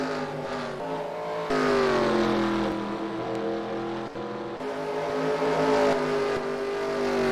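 Stock cars racing in the eNASCAR Heat game at Las Vegas, a loud continuous engine roar with shifting pitch as several cars battle close together, steady throughout with no talk.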